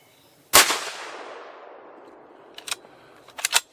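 A single sharp, loud crack from a 6.5 Creedmoor Bergara MG Lite rifle firing Hornady Black ammo, with a long fading echo, followed by lighter metallic clicks and clacks of the bolt being worked.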